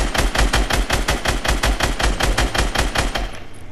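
Rapid automatic gunfire in the Fortnite video game, a loud, fast, evenly spaced burst of shots that runs nearly the whole time before cutting off near the end.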